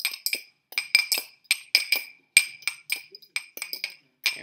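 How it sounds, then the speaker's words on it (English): A fork stirs a fluffed-up microwave scrambled egg in a ramekin, making quick, bright clinks and scrapes against the dish in an irregular, close rhythm with short pauses. "we wanna mix and stir our egg up"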